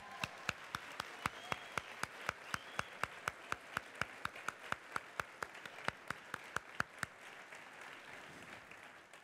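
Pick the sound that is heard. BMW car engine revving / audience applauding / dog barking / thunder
audience applauding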